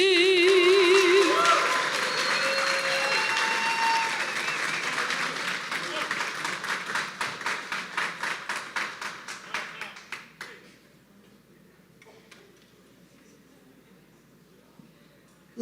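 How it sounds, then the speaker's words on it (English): An audience applauds after the national anthem at a Republican Rumble event, loud sustained clapping with cheers that thins into scattered, rhythmic claps before stopping around ten seconds, leaving quiet room tone. "Again, a big round of applause."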